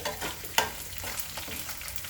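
Dried red chillies fry in hot oil for tempering during festive cooking, giving a steady close sizzle with stirring scrapes and one sharp clink of a utensil.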